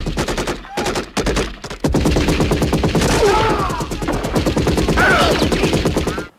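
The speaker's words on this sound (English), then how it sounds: "The super machine gun is a constant stream of devastating bullets." In Hard Corps: Uprising, the super machine gun fires a loud, unbroken stream of rapid video-game gunshots, with a brief stutter near the start before settling into constant fire laid over game music.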